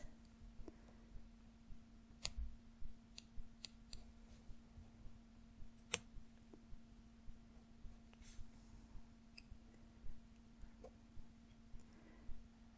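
Small scissors trimming string padding for goldwork hand embroidery, a handful of faint, sparse snips and clicks close by over a quiet background hum, no talking.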